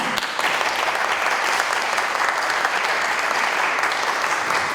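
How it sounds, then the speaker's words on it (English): A festival crowd claps after an on-stage conversation, a loud, sustained burst of steady applause filling the room without a break. "We need another round of applause for her."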